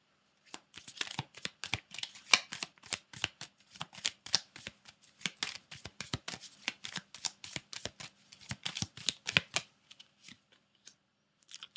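Tarot cards are shuffled by hand in a quiet room, a long run of close, crisp riffling bursts in an irregular rhythm, heard alone without talk.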